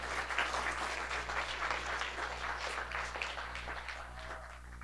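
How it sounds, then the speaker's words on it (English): An audience at a clean energy forum gives a panel a round of applause, a close, lively burst of clapping that holds steady and then tapers slightly over a low room hum. "Let's give a big round of applause for our panel."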